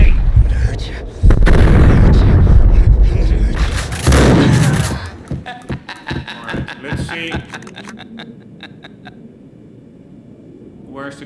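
Loud gunfire from the Max Payne video game: heavy booming bursts and rapid volleys early, then a string of sharper individual shots and pops that thin out toward the end.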